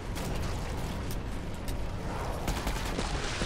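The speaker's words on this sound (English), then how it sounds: "I've just got all my shotgun shots." Repeated shotgun blasts in a video game, sharp shots scattered through a loud, dense wash of game noise and mechanical clatter.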